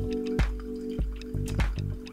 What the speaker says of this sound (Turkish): Şimdi 240 mililitreye kadar yavaşça suyumu döküyorum.